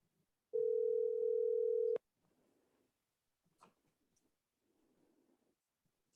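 During a county redistricting workshop, a steady telephone dial tone sounds for about one and a half seconds while a caller is transferred, cut off sharply and followed by faint line noise and soft clicks.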